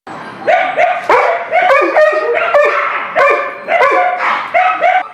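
A dog barks repeatedly in close, loud bursts with some yipping and whimpering tones between, no people talking.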